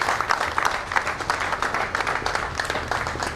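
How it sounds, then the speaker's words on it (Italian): A crowd in the Sicilian town of Raffadali applauds as a police car drives away, dense continuous clapping with fluttering peaks, fairly close and loud, with faint voices mixed in. "L'auto della polizia lascia Raffadali con una coda di applausi."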